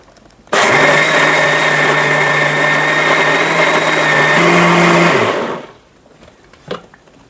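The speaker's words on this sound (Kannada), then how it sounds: "ಸೊ ಇದನ್ನ ಇವಾಗ ರುಬ್ಕೊಬೇಕು." A mixer grinder whirs loudly and steadily while grinding sweet jackfruit batter, its motor note shifting briefly near the end before it winds down and stops, leaving a faint knock.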